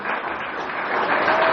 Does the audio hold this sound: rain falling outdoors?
no